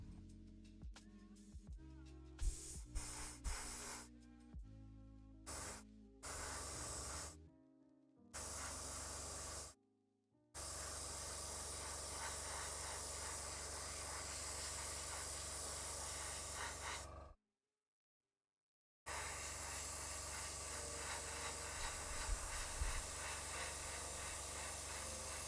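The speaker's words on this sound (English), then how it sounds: "the airbrush is just wizardry" Airbrush spraying paint while a Warhammer 40k knight model is painted: a steady, loud hiss of compressed air that runs on for long stretches, broken by a few short pauses and quick stop-start bursts.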